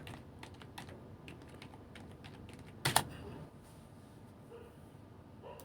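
Light typing on a computer keyboard, a scattered series of soft, quiet key clicks with one louder clack partway through, against a faint background hiss.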